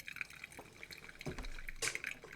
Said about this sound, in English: So here comes the modern coffee. We're going to have that dripping in the background